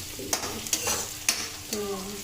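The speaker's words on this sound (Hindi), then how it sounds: "इसको भून रही हूँ धीमी आंच पे" Garlic cloves, onion and green chilli sizzling in oil over low heat, with a steady soft crackle and a few sharp scraping clacks of a spoon against the pan, close and fairly quiet.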